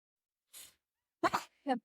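One person sneezes close by: a short breathy intake, then a sharp voiced burst and a brief trailing sound, all loud against an otherwise quiet room.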